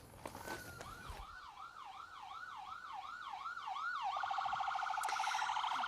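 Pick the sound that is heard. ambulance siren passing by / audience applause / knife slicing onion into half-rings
ambulance siren passing by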